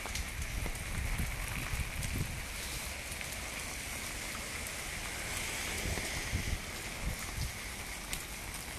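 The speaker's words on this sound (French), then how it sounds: "Parce que là, il mouille." Steady rain falls outdoors, a dense continuous patter of drops on surfaces with a few louder nearby drips and low rumbles, no voices.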